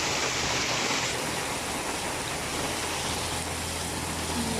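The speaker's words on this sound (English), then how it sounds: "That's the flood water." Flood water surges during the rainy season in the Philippines, a steady, dense roar of rushing water that fills the scene without pause and with no voices.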